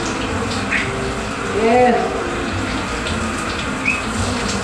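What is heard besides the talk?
running water showering a pet bird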